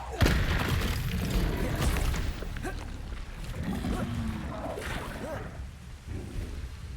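Bombarda explosion spell in the Hogwarts Legacy video game, booming blasts and rumbling roars layered under busy battle noise, loud and sustained throughout.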